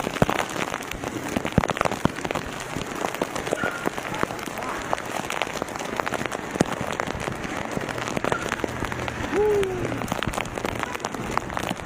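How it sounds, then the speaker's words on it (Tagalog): Heavy rain while cycling, a dense steady patter of drops hitting surfaces close by, with scattered louder splats and a rider's voice talking over it. "Lakas ang ulan doon."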